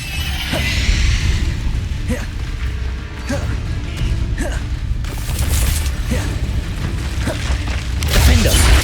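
In the video game Hogwarts Legacy, the Confringo blasting spell sets off a series of sharp explosive blasts and crashes over a steady game background, with brief vocal gasps from the character between the hits.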